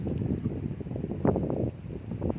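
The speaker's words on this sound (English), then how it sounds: "Very windy out here today." Strong wind buffets a microphone out on open water near a cliff, a steady low rumble with gusts and faint rustling throughout, swelling briefly midway.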